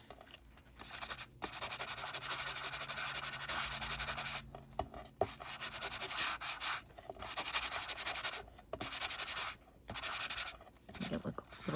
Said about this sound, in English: This is very shiny. Don't know how I feel about shiny in this journal. Let's scuff it up a little bit.